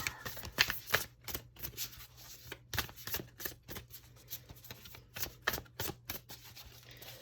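Tarot cards being shuffled by hand, with a run of crisp irregular riffles and taps that stop and start close to the microphone, fairly quiet and with no talking.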